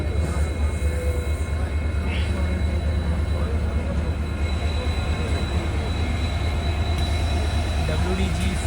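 A passenger train running between Jamshedpur and Howrah, heard from inside a general class coach as a steady, loud rumble and rattle that continues throughout with no clear pauses.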